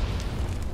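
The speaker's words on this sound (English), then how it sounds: "Thank you to whoever threw that grenade." A grenade explodes in the World War I shooter Verdun, a dull low-heavy boom rolling out across the whole moment at steady loudness, with no voices over it.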